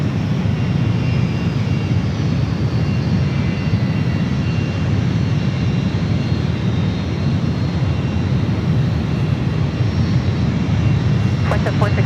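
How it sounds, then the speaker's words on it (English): A United Airlines Boeing 757 taxis at San Francisco airport, its jet engines a steady, loud broadband roar with a low rumble that holds evenly throughout, while radio talk runs underneath. "Got another United 757 heading to 1 right"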